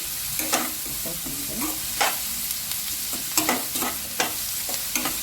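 Onions fry in hot oil with green chillies, salt and turmeric, a steady crackling sizzle broken by repeated scraping stirs of a spoon against the pan, close and clear with no voices.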